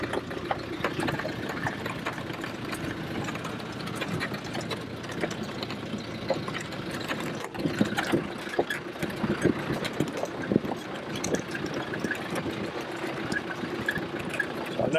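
A car engine runs steadily on a steep mountain track descent in the Pyrenees, a continuous close drone with bumps and rattles throughout and no talking.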